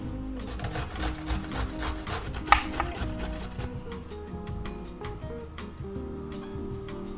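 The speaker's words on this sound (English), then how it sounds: "let's shred our small carrot" A small carrot and radishes are shredded by hand on a kitchen grater, giving a steady run of close, rasping scrapes that repeat for several seconds with no talking.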